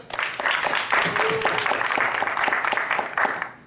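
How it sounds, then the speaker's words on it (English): An audience at a Somali reconciliation panel discussion in Ohio claps steadily for nearly four seconds, a dense, even round of applause that fades at the close. "So just a round of applause for the folks here in Ohio."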